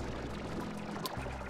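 Watering slimes in the video game Slime Rancher produces a steady, dense whoosh of pouring or spraying water that keeps going throughout with no voices.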